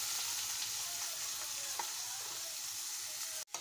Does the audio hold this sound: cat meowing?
no